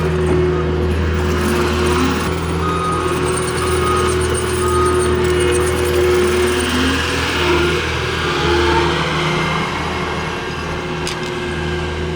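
Cat D3K2 dozer diesel engine, hard to start and running rough, drones steadily and loudly at close range for the whole stretch with a constant low hum and some uneven rattling.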